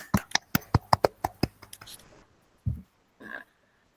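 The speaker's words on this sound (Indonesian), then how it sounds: "Kita beri aplaus untuk semua anak-anak Ibu." Children clap in a quick, fairly even burst of about a dozen sharp claps in a classroom, fading out after two seconds. A couple of brief faint voices or knocks follow.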